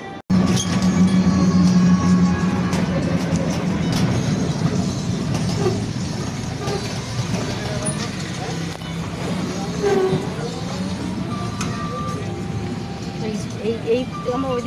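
A train passes close by near Serampore station, a rolling rumble with some wheel clatter that builds early and then fades, heard under nearby talking voices in hot outdoor surroundings.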